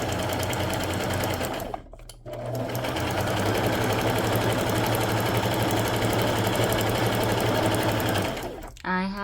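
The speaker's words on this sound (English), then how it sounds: "I'm gonna do the same thing and sew my pocket shut just with a really pretty straight stitch" A sewing machine runs a straight stitch to close a paper pocket, with a loud, rapid, steady whirring burst, a brief pause near two seconds, then a long continuous run that stops near the end.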